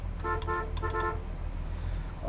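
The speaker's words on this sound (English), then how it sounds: "Horn." A 1969 Chevrolet Impala SS horn honks twice in quick short blasts, loud and close, over a steady idling engine rumble.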